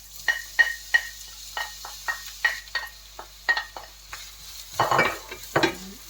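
A spatula clanks against a pan in a quick, uneven run of sharp knocks while browned garlic cooks for spaghetti. Near the end, onions go in with a brief louder hiss, then more scraping.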